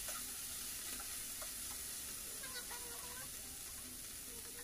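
Spices frying in a pan for a Rui fish curry, with blended cumin, garlic and onion, salt and chili powder, a steady low sizzle with occasional stirring scrapes under faint background noise.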